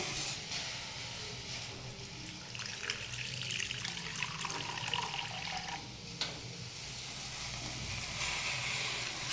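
Water pours steadily into a cooking pot holding flat beans and crushed ginger, a continuous splashing trickle heard close by.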